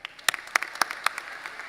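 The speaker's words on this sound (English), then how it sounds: "Another round of applause for them." Scattered applause from a high school graduation audience, sharp separate claps at a distance, fairly faint and short.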